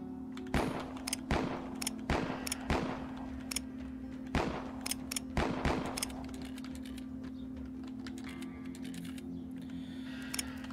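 Gunfire from a western shootout in the game Westerado: a rapid run of sharp, loud shots in uneven bursts over a steady low hum, then a few faint clicks as the firing dies away.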